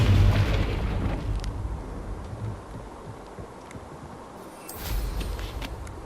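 Confringo spell explosion in Hogwarts Legacy, a heavy rumbling boom at the start that decays into a low roar, followed by a second softer blast near the end, with no talk.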